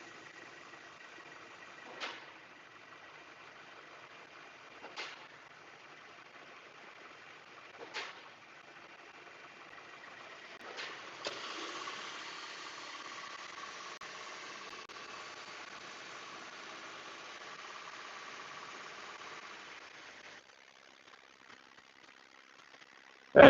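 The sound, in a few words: 2018 Subaru Forester XT engine running at 2000 RPM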